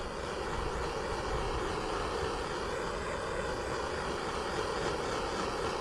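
A heat gun blows a steady, loud whooshing roar while shrinking heat-shrink tubing onto a crimped wire lug terminal, with no talk.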